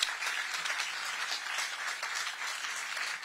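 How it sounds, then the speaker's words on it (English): Steady audience applause at an outdoor groundbreaking ceremony for a development, sustained clapping from a crowd with no speech over it. "So can we give Red Brick a round of applause, please?"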